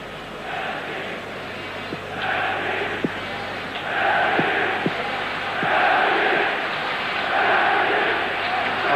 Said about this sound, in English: The Belgian crowd supporting their favourites now, building up a chant behind the Belgian goal.